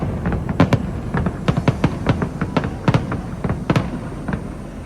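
A July 4th fireworks show in Las Vegas crackles with rapid sharp bangs and pops, an irregular burst of many distant explosions rolling over a murmuring crowd.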